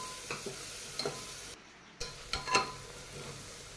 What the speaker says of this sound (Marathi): मसाला चांगला तेल सुटेपर्यंत भाजून घेतलाय